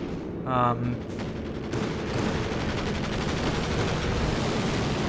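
Pintle machine gun on a Panther tank fires in a Company of Heroes 2 match, a steady rattling burst of gunfire running continuously after an early tonal effect, fairly loud and close.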